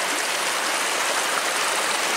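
Flowing stream beside frozen rocks in a wintry forest, a continuous bright babbling rush of water, close and steady throughout, with no voices heard.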